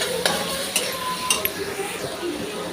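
Ginger garlic paste sizzles quietly in a hot pan while a spoon stirs, with a few sharp metallic clinks against the pan.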